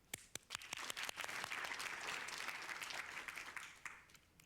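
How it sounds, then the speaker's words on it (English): A courtroom audience applauds steadily, a dense wash of many hands clapping that swells and then slowly thins out, with no voices over it. "We're applauding because you have no children"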